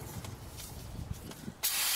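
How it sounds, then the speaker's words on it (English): Brake cleaner hisses from a can onto spilled oil under a car, a sudden loud close spray that starts after quiet shop background and keeps going. "just use some brake cleaner to clean off all the oil that was spilled"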